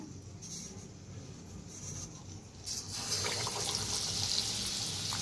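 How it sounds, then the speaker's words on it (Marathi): Vada batter fritters dropped into hot oil for a Maharashtrian kadhi vada, a soft watery hiss rising and spreading into a steady, fuller sizzle partway through, close by with no talking. "तेल तापलंय का बघूया. तर छान तापलेलं आहे तेल बी. तर असं बुडवायचं."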